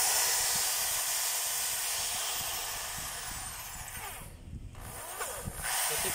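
A power tool spins up and runs in forward, then briefly cuts out before running again in reverse. It makes a steady, close, hissing whine with a short drop in the middle and no voices.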